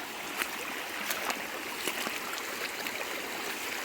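River water flows in a steady, dense rushing wash, close and continuous, with small splashes and trickles on top.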